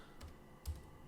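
Fingers tapping out git commands on a computer keyboard, a few quiet distinct keystrokes with a slightly louder press near the end, in a still room.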